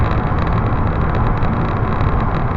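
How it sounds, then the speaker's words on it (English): 2006 BMW 730d SE with its 3-litre diesel engine hums steadily while driving, a loud, even low drone blended with road and tyre roar and no talk over it. "This is the 3-litre diesel, which is certainly powerful enough for this vehicle."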